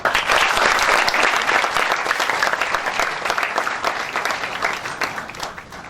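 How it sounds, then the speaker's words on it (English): A big round of applause at a university event welcoming a visiting justice, loud and dense crowd clapping that holds steady for several seconds before thinning slightly. "with your big round of applause, call upon Honorable Justice Srimati Sadhna Jadhav ma'am."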